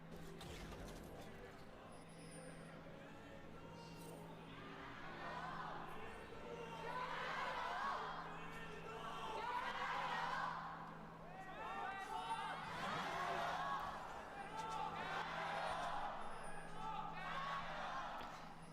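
An audience in an esports arena at an LPL League of Legends match cheers in rising and falling swells over a steady low hum, with a commentator's voice running over the crowd.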